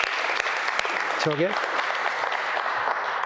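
Audience applause at a leadership talk, steady broadband clapping filling the room with a brief spoken word over it.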